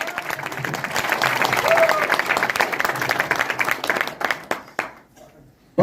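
Audience applause at a Hindi-language motivational business speech, a sustained wash of clapping from a crowd that thins out and stops near the end.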